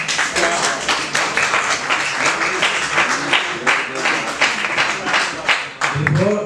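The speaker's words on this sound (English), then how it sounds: "So let's start clapping again for Dr. Ajay Gandhi" Sustained clapping from an audience after a medical talk on bleeding disorders, steady and fairly loud throughout, with voices mixed in beneath the applause.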